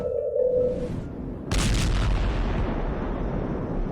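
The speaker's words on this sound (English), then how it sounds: "Earth-shaking booming sounds have been reverberating off some parts of North Carolina for more than 150 years" Deep booming rumbles known as Seneca guns off the North Carolina coast: a low, heavy roar that swells into a louder broad burst partway through and then lingers as a sustained rolling rumble, with no voices.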